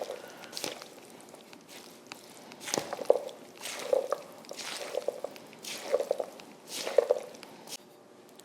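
Creamy dressing being stirred into an avocado salad with a spatula, producing soft, wet squishing and smacking sounds in an irregular series, close and fairly quiet.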